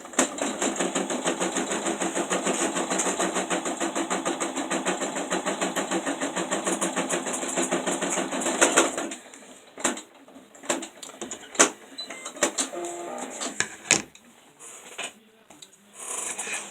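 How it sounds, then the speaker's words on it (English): An embroidery machine stitches a placement stitch for an in-the-hoop Easter table runner. A fast, steady, rhythmic mechanical chatter runs for about nine seconds, then stops and leaves scattered clicks and handling noises. "We're going to put it back in the machine, and it's going to do the placement stitch."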